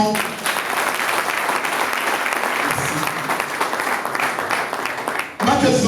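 A live audience at a rap and music show applauds an artist with loud, sustained clapping and crowd noise that ends abruptly near the close, followed by a brief burst of another sound.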